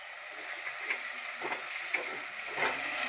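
Slit green chillies sizzle with softened tomato and onion for a Palakkad-style egg curry. A soft, steady frying hiss plays with a few faint stirring taps spread across the clip.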